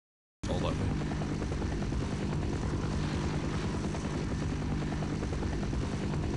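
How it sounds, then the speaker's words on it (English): A helicopter in the video game Half-Life: Opposing Force thrums loudly and continuously as soon as it starts, its rotor and engine drone filling the scene, with faint talk underneath. "Can't really hear these guys over the helicopter."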